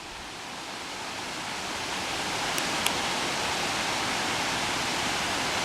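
A woodland stream flows in a steady, broadband rush near Glarus, Switzerland, growing slightly louder partway through, with a couple of faint high ticks and no speech.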